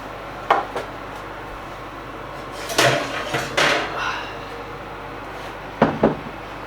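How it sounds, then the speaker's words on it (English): Baked bread tins come out of an oven, giving a few sharp metallic clanks and knocks spaced over several seconds, close by against a quiet kitchen background. "Okay, let's get these out of the oven then."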